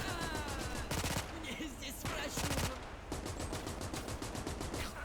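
Gunfire in the WWII strategy game Gates of Hell Ostfront during a partisan ambush, with dense overlapping rifle and submachine-gun bursts crackling nonstop and sharp volleys layered over continuous battle noise.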